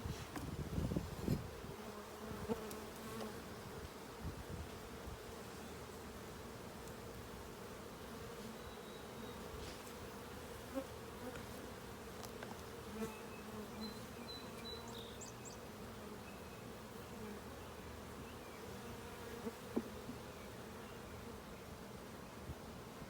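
Honeybees hum in a dense, steady drone around an opened hive during a spring inspection, close and continuous with no voices.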